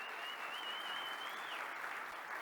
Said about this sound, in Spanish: Le damos un nuevo aplauso.